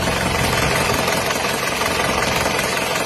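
An engine with a modified liner runs hot, giving off smoke, a steady idling rumble with rough knocking texture and constant vibration, close and loud throughout with no talking.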